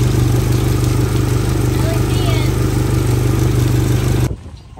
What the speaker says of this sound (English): First run for this Suzuki 140.